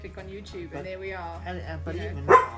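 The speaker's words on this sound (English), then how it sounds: "excuse the dog barking" A dog barks once, sharp and fairly close, near the end, while a person keeps talking in a quiet indoor room.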